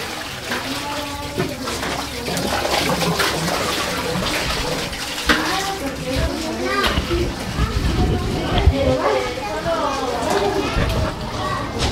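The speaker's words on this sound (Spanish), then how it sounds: "Esa pila la vamos a lavar." Tap water runs steadily into a stone wash basin (pila) as it is washed. Children and adults talk and play loudly over the splashing throughout.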